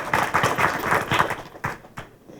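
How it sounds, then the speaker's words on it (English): A school audience claps for students at a Shark Tank event, the brief applause of many hands rising quickly and then thinning into a few scattered final claps. "Let's give them a big round of applause."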